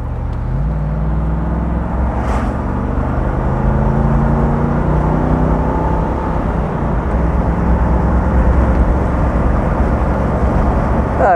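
A 1970 Mercedes 280 SE 3.5 Cabriolet with its 3.5-litre engine pulls steadily uphill, a continuous low drone with rising engine tones, heard from inside or close by without talk.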